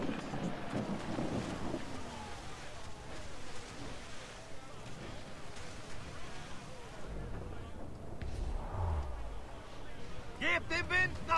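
Wind rushes around a sailing ship at sea in Assassin's Creed IV Black Flag, with creaking and waves forming a constant bed beneath German voices.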